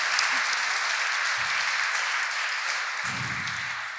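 An audience applauds the debaters at the close of a debate on federalism, steady even clapping filling about four seconds at a moderate distance, with a few low voices underneath.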